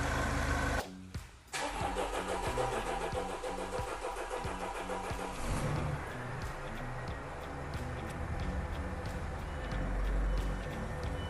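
A Mercedes Sprinter van's OM651 diesel engine cranks and catches after an overhaul, then settles into a steady, rumbling idle close by.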